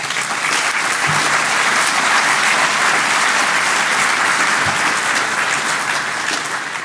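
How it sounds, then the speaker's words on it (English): Loud, steady applause from an audience at a DEF CON 21 hacking conference talk, a dense wash of clapping that fills the whole stretch without pause. "So I would request applause for these guys."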